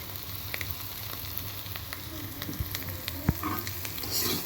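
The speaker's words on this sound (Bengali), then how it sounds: "সব সবজিগুলো আগে একটু ভাজা ভাজা করে নিয়ে তারপরে এই যে" Vegetables and egg fry for noodles in a pan with a soft, continuous sizzle, broken by light stirring scrapes and a sharp clack near the end, quiet and close, with no speech.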